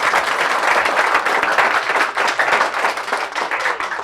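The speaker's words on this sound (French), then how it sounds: "On applaudit très très fort pour ce charmant public." Steady, loud audience applause fills a French TV studio set, with dense clapping from a live crowd continuing throughout without pause.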